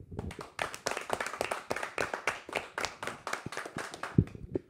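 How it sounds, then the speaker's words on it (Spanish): Audience clapping for the Monroy family at a wrestling show, a moderately close round of individual handclaps in an uneven rhythm that thins out toward the end. "Un aplauso para la familia Monroy."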